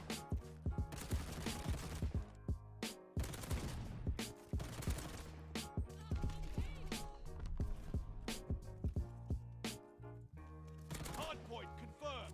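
Rapid automatic gunfire from a teammate in the Call of Duty Vanguard video game, including a full-auto G-43 rifle, rattles in quick repeated bursts across the whole stretch, fairly close, with game audio underneath.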